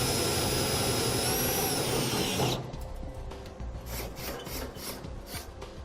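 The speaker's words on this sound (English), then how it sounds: "We're going to use a 1/2" drill bit per the instructions." Power drill with a 1/2 inch bit boring a hole in a pickup truck bed for a ladder rack install, a loud high whine and grinding for about two seconds, then spinning down into softer rubbing and pulsing rasps.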